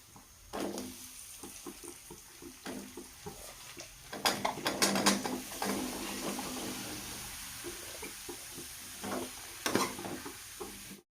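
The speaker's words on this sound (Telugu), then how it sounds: "వీటిని ఆయిల్లో కొంచెం ఫ్రై అవ్వనివ్వాలి మగ్గనివ్వాలి" Cauliflower florets, washed and blanched in hot water, sizzle and fry in oil for a masala curry, with repeated stirring and scraping clatter in the pan through the whole stretch; no one speaks.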